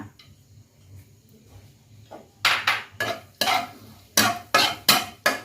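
Garlic stir-fried in a pan, a quiet start giving way to a series of loud, sharp sizzling scrapes as a utensil tosses it in bursts, close up.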